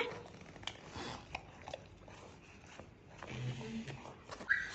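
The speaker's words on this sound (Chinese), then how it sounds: "旁边狗急得嗷嗷叫。" A dog nearby whines anxiously in short, faint bursts alongside chewing and biting noises from dogs being fed, while a person talks softly in the background.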